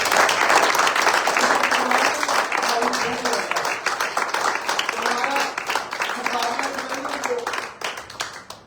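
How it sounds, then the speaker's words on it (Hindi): A congregation applauds loudly at a Sunday church service in Dubai, a dense burst of many hands clapping that fades slightly toward the end, with voices singing or calling out beneath it. "उस खुदा के लिए खुल के और जोर से ताली बजाएं पूरी एनर्जी के साथ"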